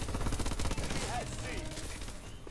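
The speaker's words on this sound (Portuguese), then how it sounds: "Muito tiro, gente, muito tiro." Rapid gunfire from the video game Call of Duty: Advanced Warfare, with the ARX 160 rifle, crackles in dense, steady bursts that fill the clip, while a voice talks over the shooting.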